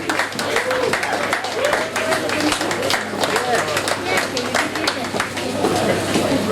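Audience applause at the RSPC Tempawan Cup 2017 as a player is called on stage, a dense steady clapping from a crowd that fills the whole stretch, with voices and crowd murmur mixed in.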